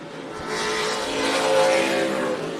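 Stock cars racing at Tucson Speedway in NASCAR weekly racing, a loud, continuous engine roar from several cars through the corners that swells and eases slightly over a few seconds.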